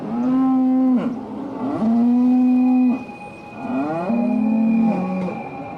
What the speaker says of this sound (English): They can hear the cows, they're bellowing and stuff when they go in.